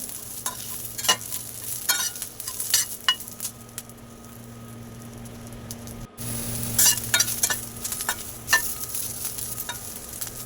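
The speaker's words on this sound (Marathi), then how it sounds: "मिरच्या आता भाजायला लागलेल्या आहेत। थोडंसं तेल घातल्याने त्याची साल ही लवकर भाजते।" Green chilies and garlic fry in a little oil in a pan for Maharashtrian thecha, with a steady sizzle under repeated stirring and spatula scrapes and clinks against the pan, close by and without talking.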